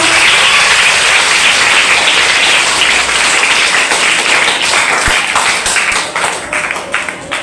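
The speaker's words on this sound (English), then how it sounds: "So dear audience, give them a big round of applause." A large audience claps loudly for students at a school debate competition, a dense sustained round of applause that stays strong, then begins to thin and trail off near the end.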